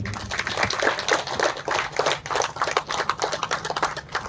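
An audience at an anniversary gathering claps together in a lively, continuous burst of fairly close applause, with uneven rapid hand claps throughout.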